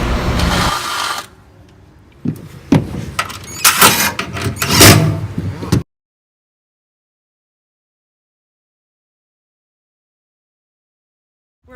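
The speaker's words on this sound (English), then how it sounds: "The next step in this process is drilling the holes to mount the CargoGlide." Holes are drilled into a truck bed to mount a CargoGlide 2200 XL slide under an A.R.E. MX Series truck cap. Loud, close bursts of drilling stop and start for about six seconds, then everything goes silent.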